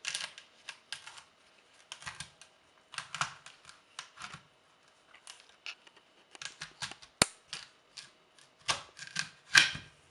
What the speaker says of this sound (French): Alors, pour le couper, le plus simple, c'est de le couper